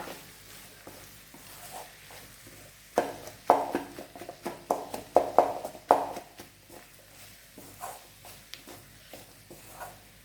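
Potato masala being stirred in a pan for poori, a run of close scraping and clattering strokes that grows busier midway, with faint sizzling underneath and no talking.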